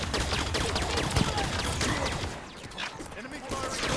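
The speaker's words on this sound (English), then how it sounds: "Enemy firing." Enemy gunfire in Halo 5: Guardians crackles as rapid, dense bursts of shots, loud and sustained for several seconds with a brief dip before resuming.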